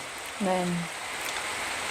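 Steady rain hisses throughout, with a brief voice-like tone rising out of it near the start.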